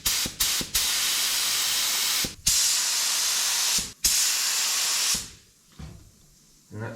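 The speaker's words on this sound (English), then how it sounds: "And that seems like it's spraying better." SPI epoxy primer sprayed from a spray gun onto a 1955 Chevy firewall, in long steady hissing bursts of a second or more, broken by short gaps, with a final burst trailing off into quiet.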